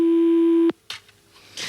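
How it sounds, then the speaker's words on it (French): A steady telephone busy tone rings out loud and continuous from someone's phone, then cuts off abruptly partway through, followed by faint rustling and room noise. "Ça, c'est le téléphone de quelqu'un"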